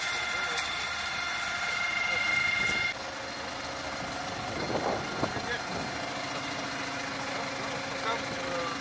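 A tractor engine runs steadily at a military barrier position, a continuous droning hum with faint clanks, heard at moderate distance under the ambient outdoor noise.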